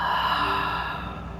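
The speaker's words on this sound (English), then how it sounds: "Breath in. Breath out. Inhale. And exhale." A long, steady exhale during a yin yoga session, breathy and close, lasting through the whole moment without any talk over it.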